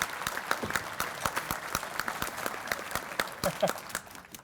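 Steady applause from a room full of people, a dense patter of claps that swells slightly and then fades toward the end.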